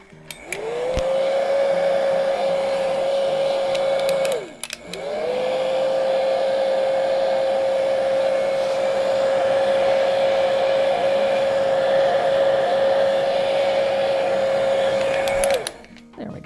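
A hair dryer quickly dries stencil paint on a painted piece, a loud steady close whir that runs for a few seconds, cuts briefly, then resumes for a long stretch before switching off.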